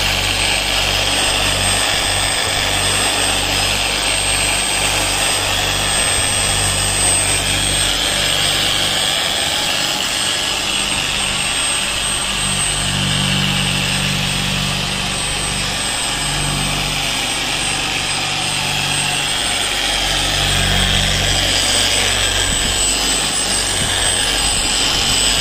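A $49 Harbor Freight Bauer dual action polisher runs under light pressure on a surface being refined after grit sanding, giving a loud, continuous motor whine and hum for about 25 seconds with no talking.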